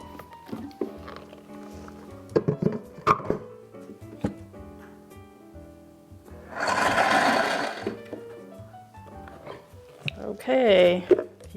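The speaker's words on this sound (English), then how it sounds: "And then we're just going to blend it until it's really smooth and creamy." A kitchen blender whirs through dates, vanilla and water in two loud bursts, one lasting about two seconds and a shorter one later, between quieter clinks, thumps and tonal sounds.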